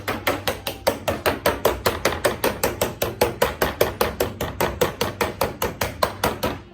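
A fork pricks taco pie crust dough in a pan, about thirty quick, evenly spaced taps in a steady rhythm, close and distinct with nothing else heard.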